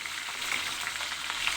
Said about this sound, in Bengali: তেলটা গরম হয়ে গেছে, এবার আমি পটলগুলো ছেড়ে দিচ্ছি